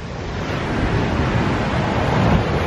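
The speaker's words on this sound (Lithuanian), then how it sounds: "bangos stipresnės ir bangos kai muša" Ocean surf breaking on the shore at Nusa Penida, a steady, dense roar of crashing waves with wind noise, loud and continuous with no talking.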